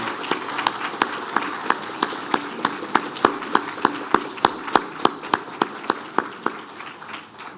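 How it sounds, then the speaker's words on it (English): Rhythmic unison clapping for the chef and wait staff at a Coast Guard Auxiliary banquet, sharp regular claps about three per second, rising slightly over several seconds with faint crowd noise beneath. "let's give them a big round of applause."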